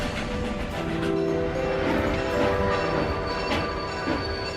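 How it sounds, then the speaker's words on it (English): A train rolls steadily through desert country, with a continuous rumbling drone, some tonal squeal and faint rhythmic clatter, sustained without pause. "The train stopped."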